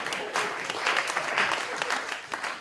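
Audience at a comedy show cheering and applauding, a dense burst of clapping from a crowd, steady and fairly loud throughout the short stretch.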